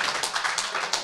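Audience clapping for a lecturer at a lecture event, a dense, steady patter of many hands with no pauses, fairly close and moderately loud throughout.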